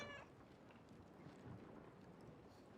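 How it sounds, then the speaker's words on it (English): A pet cat meows briefly in Assassin's Creed Black Flag, a short high call at the very start, then ambient wind and sea sounds continue steadily with no talking. "So you can actually interact with your pet cat."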